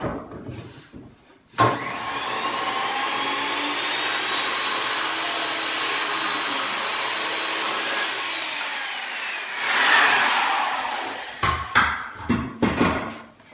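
A power saw cuts an interior door jamb, a steady loud whine lasting several seconds, followed by a rougher burst as the cut finishes and a few clattering knocks of the offcut, with no talk.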